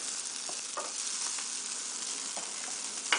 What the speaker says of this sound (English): I'm gonna heat up some of the papas con chorizo or longaniza, whatever, enough to put in the bowl